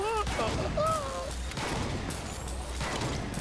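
Rapid volleys of gunfire crackle through a custom free-for-all shooter game, dense repeated shots filling the whole stretch while excited voices talk and shout over them.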